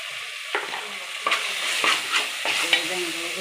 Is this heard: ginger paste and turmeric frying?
yes